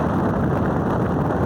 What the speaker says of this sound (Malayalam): എന്താ കാറ്റ്,